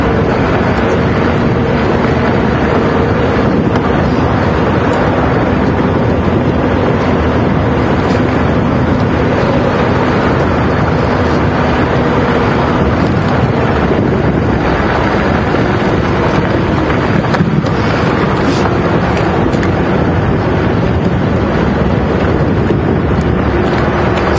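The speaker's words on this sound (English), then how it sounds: "As you'll see, that quite a stiff wind this afternoon" Stiff afternoon wind roars across the microphone during an open-vehicle safari drive at Djuma Game Reserve, a constant, loud, broadband rush with a low engine drone beneath and no pauses.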